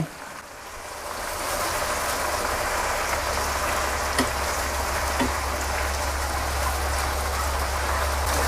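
Pieces of liver with garlic deep-fry in hot oil, a steady, dense sizzling hiss that carries on close and loud with no break.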